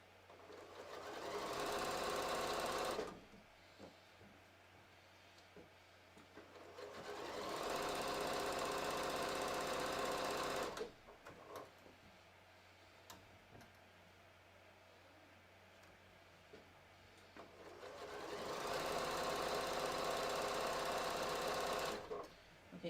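A sewing machine stitching a stretched yoga pants crotch seam with SeraFlex thread, three loud sustained runs of fast whirring separated by quieter pauses, up close.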